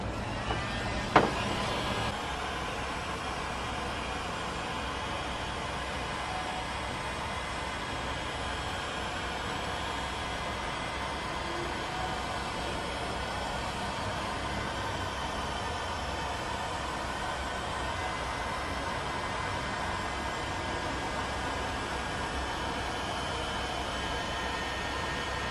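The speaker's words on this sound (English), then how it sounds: "This right here is with the heat gun." A heat gun blows steadily on a plastic rear car bumper, a constant close hiss-like roar lasting throughout after a brief click at the start, with no talk.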